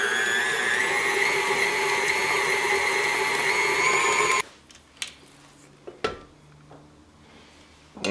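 An electric mixer beats chocolate buttercream on slow speed, giving a loud, steady whirring hum for about four seconds before cutting out. A few faint clinks and knocks follow in the quiet.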